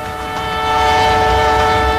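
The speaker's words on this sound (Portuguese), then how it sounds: "anunciado pelo apito do trem." A train on the Carajás railway in Brazil's Pará and Maranhão region sounds a loud, sustained horn. The steady tone swells slightly over two seconds with rumbling rail noise beneath it.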